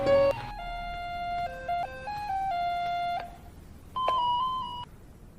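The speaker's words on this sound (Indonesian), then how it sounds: "mencoba mencari petunjuk di kamar Marni, tiba-tiba ia mendengar suara dering telepon." Telephone ringing with an electronic tone, two bursts of warbling multi-tone melody separated by a short pause, fairly clear and alone in a quiet room at night.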